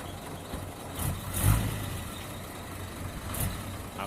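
Low rumbling of an old, long-used dump truck engine running, fairly faint and rough, with a brief surge around the middle.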